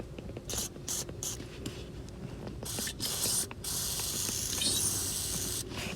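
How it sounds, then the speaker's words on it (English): WD-40 sprayed on rusted seat bolts of a 1990-1997 Miata, several short hissing aerosol bursts separated by pauses, with faint metallic handling sounds between them. "I have some WD-40 sprayed on these bolts."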